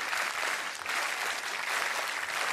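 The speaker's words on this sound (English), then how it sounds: "Very specific rhythmic clapping for Pichardo" A stadium crowd applauds during a high jump at the European Athletics Team Championships in Sandnes. It sounds like a loud, continuous wash of clapping, with slight swells but no clearly separate rhythmic beats.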